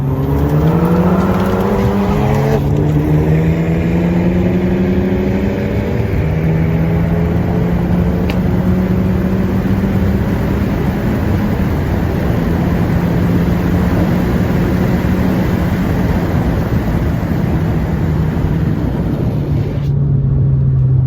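A tuned 2020 Honda Civic Si and a Hyundai Veloster N roar loudly at full throttle in a roll race from 30, engines climbing through gear shifts in a sustained, continuous acceleration.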